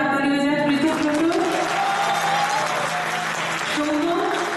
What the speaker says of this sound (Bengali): তাদের জন্য একবার জোরে হাততালি হয়ে যায়